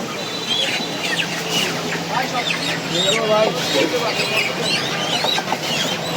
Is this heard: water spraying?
no